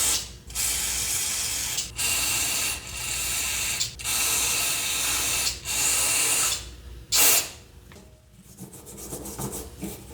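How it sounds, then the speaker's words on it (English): Repeated bursts of carburetor cleaner spray hiss loudly onto a carburetor, each lasting a second or two with short gaps, ending with a few quieter clicks and rattles. "I'm gonna spray it down with a bunch of carb clean and clean it up"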